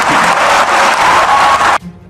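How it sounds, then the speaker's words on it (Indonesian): Audience applause following remarks at a speech, a dense, loud burst of clapping from a crowd that cuts off abruptly after about two seconds. "Kok tepuk tangannya tidak bersemangat?"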